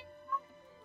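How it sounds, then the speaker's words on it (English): A single short cat meow in Genshin Impact, faint and brief over a quiet game backdrop with soft tonal music. "Oh, kitty cat!"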